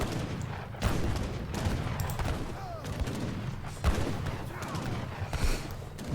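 Musket volleys and cannon fire in a strategy video game battle, a dense crackle of gunfire broken by a few heavier booms, continuous at a steady level throughout.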